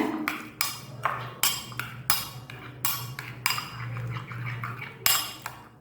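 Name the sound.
mixing sugar and honey syrup in a bowl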